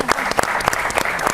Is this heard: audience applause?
yes